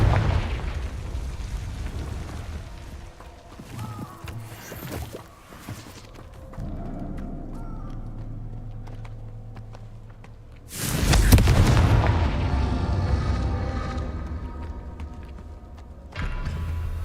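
Hogwarts Legacy Confringo blasting curse explosions, a loud booming blast with rumbling decay, followed by another strong blast later and a sharp burst at the end.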